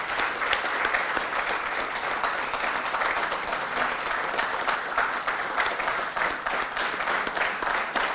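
Sustained, dense applause from a conference audience at a consulting conclave, steady and loud for the whole stretch with no break.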